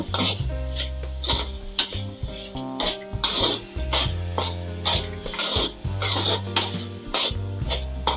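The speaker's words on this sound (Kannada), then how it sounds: "ಒಂದು ನಿಮಿಷ ಈ ರೀತಿ ಫ್ರೈ ಮಾಡಿಕೊಂಡ್ರೆ ಸಾಕು" Leafy greens and grated coconut fry in a pan for a soppina palya, with repeated scraping and stirring strokes of a spatula against the metal at a steady, close rhythm; no talking.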